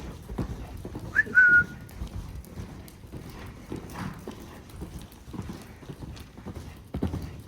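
A horse trots on a lunge line, its hooves striking in a steady, muffled rhythm at middle distance, with a short whistle partway through and faint rustling around it.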